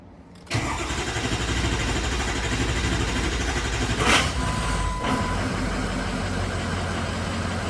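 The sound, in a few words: Ford 6.0 diesel truck engine cranking and starting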